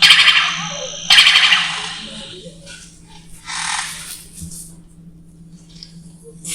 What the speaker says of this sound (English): you can hear the spotted owlet call like usually early in the evening